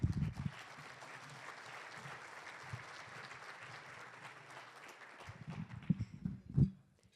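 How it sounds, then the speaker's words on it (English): Audience applause at a Rotary luncheon in Seattle: steady moderate clapping from a room of people that sustains for several seconds, then tapers off with a few louder, closer claps and low murmurs near the end. "So please, let's give Lynn a nice Seattle applause."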